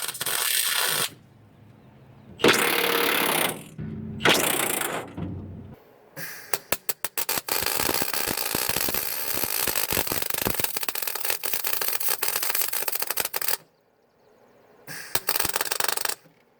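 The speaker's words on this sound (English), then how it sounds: "Check out that Milwaukee impact." A Milwaukee impact wrench zips truck bed bolts loose on a Chevy square body pickup, in loud, close rattling bursts separated by brief pauses, with a long sustained run in the middle.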